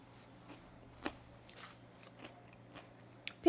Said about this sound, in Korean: 개인적으로 군만두를 정말 좋아해가지고 바로 먹어보도록 하겠습니다